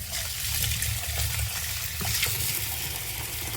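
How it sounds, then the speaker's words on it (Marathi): Vegetables being rinsed in water, a steady close wash of splashing and sloshing that runs without pause, with no talk. "तर आता हे दोन तीन पाण्याने धुवून घेते"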